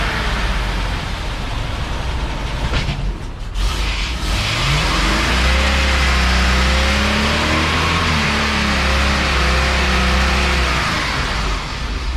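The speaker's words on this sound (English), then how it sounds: "You guys think your car will do a burnout?" A car revs hard while doing a burnout, its engine climbing to a loud, sustained roar with a steady low rumble and tire hiss lasting many seconds, alone with no talk.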